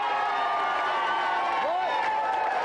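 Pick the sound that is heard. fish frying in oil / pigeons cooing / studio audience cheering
studio audience cheering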